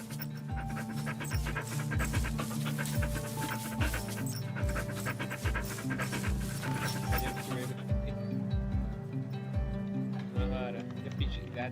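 Rhythmic panting from dogs at feeding time, steady and fairly close, over a bright musical background with regular low thumps, and the music drops away near the end.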